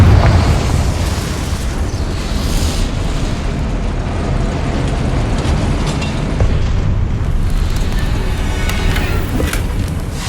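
A Confringo fire spell explosion from the Hogwarts Legacy video game roars as a loud, dense, sustained rumbling blast that fills the whole moment without a break.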